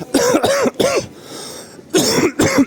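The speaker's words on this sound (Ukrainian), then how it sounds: "Ще раз вибачте на цей кашель." Several harsh, close coughs come in two quick clusters separated by a short pause, loud and chesty.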